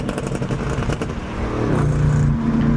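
BMW M850i V8 engine rumbling close up while driving through city streets in Philadelphia, a low steady drone that swells louder and deeper toward the end as revs build.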